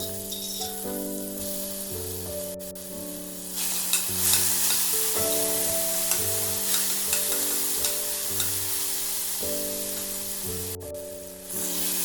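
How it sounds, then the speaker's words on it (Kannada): Crushed green chili and garlic paste frying and being stirred in a pan, a loud steady sizzle with scraping stir strokes under background music, no talk. "ಅದಕ್ಕೆ ಜಜ್ಜಿಟ್ಕೊಂಡಿರೋ ಹಸಿಮೆಣಸಿಕಾಯಿ ಮತ್ತು ಬೆಳ್ಳುಳ್ಳಿ ಪೇಸ್ಟ್ ಹಾಕಿ ಸ್ವಲ್ಪ ಫ್ರೈ ಮಾಡಿ"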